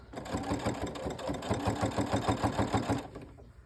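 A sewing machine stitches through layered quilt fabric, its fast, even needle rhythm running steadily for about three seconds before stopping abruptly, close and clear with no talking.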